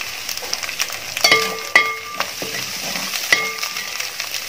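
Green chillies and curry leaves frying in hot oil in a pan, a close sizzle broken by several sharp spatula taps and clinks against the metal.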